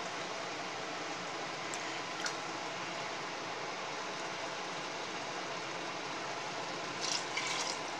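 Water pouring steadily into a cooking pot for basmati rice mutton biryani, a continuous broadband rush lasting the whole clip at an even level, with a few faint clinks near the end.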